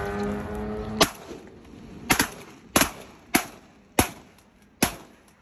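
Shotgun blasts ring out during a goose hunt: six sharp, loud reports at irregular intervals, each decaying quickly, with a little background noise before the first shot.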